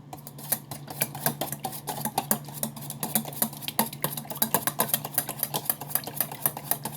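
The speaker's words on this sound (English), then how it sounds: "It's gonna whisk it all up." A whisk beats ingredients together in a bowl, giving a rapid, steady run of close metallic clicks and taps against the bowl over a constant low hum.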